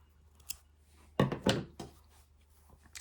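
Scissors snip through crochet yarn while a figure's head is finished, giving two or three sharp close cuts in quick succession against a quiet room with no talk.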